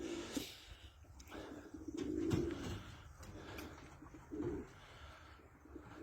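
Pigeons cooing while being fed outdoors near a spot of red soil and clay, several soft throaty coos at moderate distance over a faint background of rustling and distant bird chirps.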